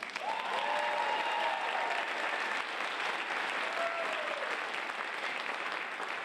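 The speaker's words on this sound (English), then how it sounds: "a whole crowd of people applauded the idea of kindness" A large indoor crowd applauds steadily and loudly at a company event, sustained dense clapping filling the room throughout, with a few brief whistles or cheers rising above it.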